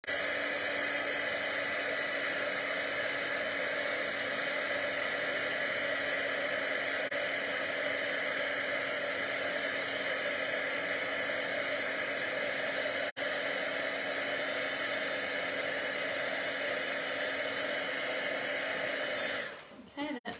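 A heat tool blows steadily for about twenty seconds while melting silver Stampin' Up embossing powder on a card, giving a loud, even whirring hiss with a constant hum that cuts off at the end.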